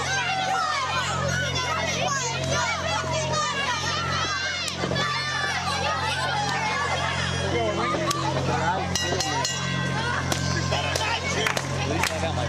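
A wrestling crowd at a live tag-team match in a baseball-themed brawl event roars and cheers steadily, with scattered clapping and children's shouts in the dense babble, loud and continuous throughout.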